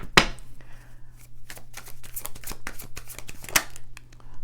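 A deck of tarot cards is shuffled close up in quick riffling bursts and sharp snaps, with sharper slaps near the start and again toward the end, and no talking.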